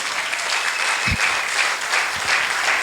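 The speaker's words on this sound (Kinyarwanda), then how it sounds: "Amashyi menshi ku Mwami Yesu Kristo." A church congregation claps steadily for the Lord Jesus Christ during a sermon, a dense, continuous round of applause filling the hall with a few thumps underneath.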